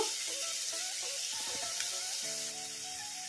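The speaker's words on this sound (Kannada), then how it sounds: "ಈಗ ಇವನ್ನೆಲ್ಲ ಮೀಡಿಯಂ ಫ್ಲೇಮಲ್ಲೇ ಫ್ರೈ ಮಾಡ್ಕೋಬೇಕು" Green chillies and onions frying in a pan on a medium flame, giving a steady close sizzle and hiss throughout with a few soft clinks of a spoon stirring.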